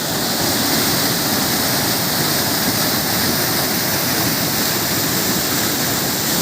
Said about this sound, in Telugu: ఇంత బాగున్నది ఇక్కడ వాటర్ సౌండ్